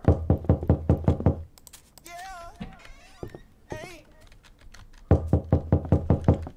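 Rapid bursts of loud knocking pound on a door in a horror video game, a fast string of sharp raps that stops while someone speaks, then resumes just as hard.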